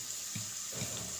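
Bowl-rinsing water poured into a pot of chicken curry, two short splashy pours close by over a steady background hiss, no voices.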